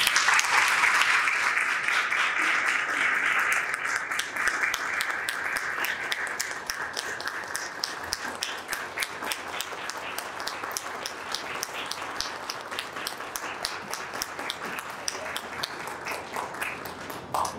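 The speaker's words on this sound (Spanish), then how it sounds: "Con este aplauso agradecemos al doctor Danilo Manera por esta conferencia" An audience applauds at the close of a conference lecture, a steady wash of many hands clapping that thins toward scattered individual claps as it fades over about seventeen seconds.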